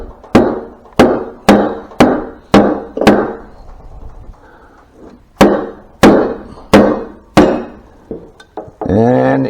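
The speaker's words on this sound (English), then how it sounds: "use a rubber mallet or a dead blow hammer and just give it a tap on the end" Sharp repeated rubber mallet strikes on metal, tapping a Harley 5-speed gear set out, about a dozen evenly spaced hits in two runs with a short pause between, loud and close, ending in a voice.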